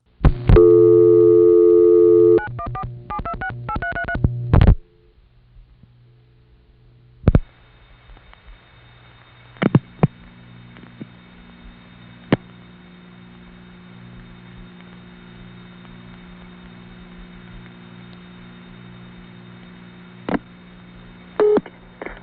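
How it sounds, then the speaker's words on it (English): A 1974 telephone call routed over an N3 trunk to the White Plains tandem in New York's 914 area: loud multifrequency dialing tones and signaling bursts up front, then a steady switching hum with scattered clicks and short tone pulses. "This recording, which starts with an N3 family trunk to White Plains Tandem 1, does clearly show how the call goes through"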